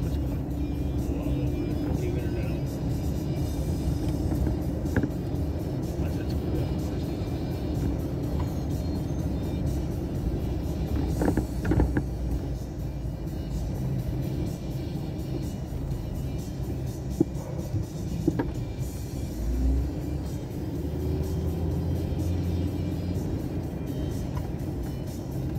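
A car rolls slowly through a park, its engine and tyres giving a steady low rumble from inside the cabin that runs throughout, with a few faint knocks and some quiet voices underneath.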